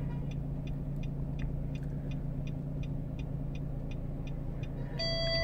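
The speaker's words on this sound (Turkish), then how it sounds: "Ve daha sonra arabayı ileri doğru hareket ediyoruz." A Nissan Qashqai rolls slowly forward while its automatic parking system runs, with a steady low engine and road rumble and a regular series of soft electronic beeps ticking over it, ending in a brief chime.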